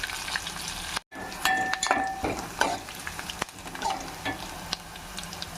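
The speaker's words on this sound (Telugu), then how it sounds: "ఉల్లిపాయ ముక్కలు కూడా కొంచెం మగ్గనిద్దాం." Chopped onion pieces sauté in a pan with okra, giving a constant soft sizzle. A spoon clinks and scrapes against the metal now and then, and there is a brief dropout early on. It is quiet overall, with no talking.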